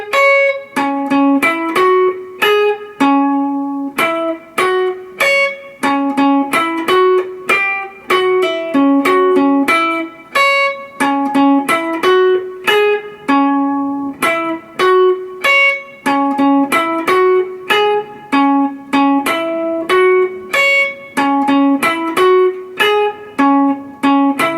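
A single electric guitar plays a solo through at a slow tempo, a long run of clear picked notes in steady phrases, close and unaccompanied, with no voices.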